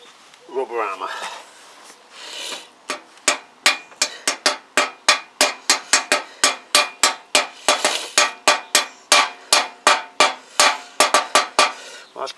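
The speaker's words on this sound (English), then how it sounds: "Rubber hammer." A rubber mallet strikes repeatedly in a steady rhythm, over two dozen dull, close thuds, after a brief squeak at the start.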